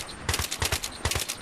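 Rapid gunfire in the video game Battlefield 3, several quick bursts of automatic shots in a tight rhythm, sharp and fairly loud.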